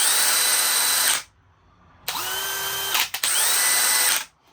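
A DeWalt DCD999 or DCD1007 cordless drill whirs in three short bursts, revving up to a steady high whine each time and stopping sharply between runs, close and loud.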